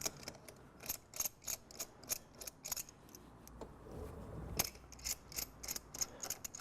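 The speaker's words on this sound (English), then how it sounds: "We have just to remove the nuts, conical nuts, that hold the wheel" Ratchet wrench clicking through a series of rapid bursts as it loosens the conical wheel nuts on a Vectrix electric scooter, close and fairly quiet, with repeated short runs of metallic ticks and no talk.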